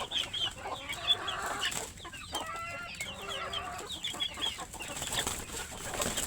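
A flock of native deshi chickens clucks softly after feeding, with short repeated calls overlapping at a modest distance over a faint, steady background.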